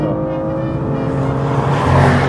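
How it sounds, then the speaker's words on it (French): A BMW M inline six-cylinder engine drones loudly nearby, its deep, smooth tone building slightly as it revs, with a raspy exhaust note. "On termine en jouant du clairon avec le 6 cylindres en ligne BMW M"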